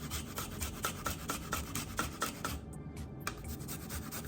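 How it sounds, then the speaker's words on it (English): Fresh ginger rubbed across a microplane grater, a quick series of rhythmic rasping scrapes, close and fairly quiet, with a short pause before the strokes resume. "now I'm grating the ginger on the microplane"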